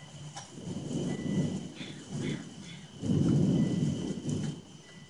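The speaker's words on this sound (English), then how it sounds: "Six minutes of thunderstorm" Thunderstorm rolling in with low, rumbling thunder swelling in two long waves over steady rain hiss, heard from a fairly close outdoor spot.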